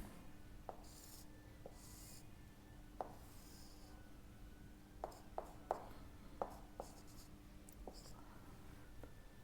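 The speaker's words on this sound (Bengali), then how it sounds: "এটা আঁকছি।" A pen or pencil scratches across paper while a triangle is drawn, faint short strokes and soft taps in an irregular rhythm over a low, steady background hiss.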